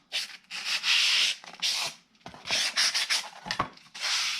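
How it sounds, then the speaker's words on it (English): A nail block rubs along the edges of a dollar-store chalkboard craft, making close, scratchy sanding strokes in short back-and-forth bursts with brief pauses between them. "So I'm just using this nail block, and I am just cleaning up some of that excess"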